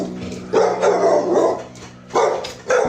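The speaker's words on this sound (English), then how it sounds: "a brave dog rushed in and pulled her to safety" A dog barks in several loud, close bursts, with short pauses between, as it pulls a young fawn out of the water.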